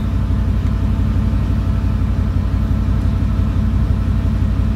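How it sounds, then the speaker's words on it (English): A Mercedes CLK55 AMG with its M113K engine idles steadily: a close, even low rumble that holds without revving. "let it idle here for a little bit"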